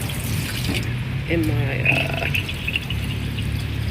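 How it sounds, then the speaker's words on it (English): Water runs and splashes at a public water station in a Paris neighborhood, a short, steady trickle with a brief louder spill, heard under a nearby speaking voice. "It's just a water station in my neighborhood."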